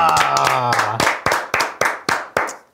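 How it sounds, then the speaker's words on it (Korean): In a football talk-show studio, a short vocal cheer gives way to a small group clapping together in about seven crisp, evenly spaced unison claps that ring briefly and stop. "어쨌든 또 박수 한번 치고 시작하겠습니다."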